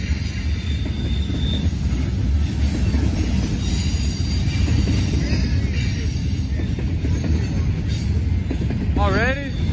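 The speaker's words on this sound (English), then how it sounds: "All we know is that trains are coming." A train rolls past in Muncie with a continuous loud rumble of wheels on rails, a faint high squeal near the end, and voices talking underneath.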